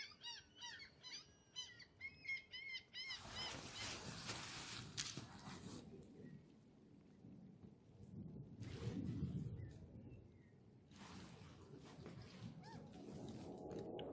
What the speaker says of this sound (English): can you hear that seagull?